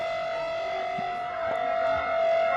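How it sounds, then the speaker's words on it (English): A civil defense siren under test in central Delhi holds a steady wailing tone, heard from a distance as a constant drone. "because looks like the sirens are being warmed up."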